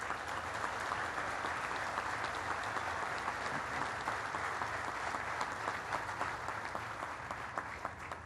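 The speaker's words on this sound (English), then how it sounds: "Give yourself a round of applause." Sustained crowd applause at an outdoor 9/11 memorial motorcycle ride event, steady dense clapping throughout at moderate distance with no break.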